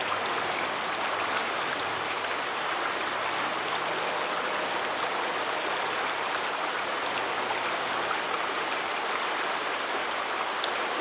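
Water from a makeshift field bottle filter pouring back into a source, a steady broad rush and splash lasting throughout without pause.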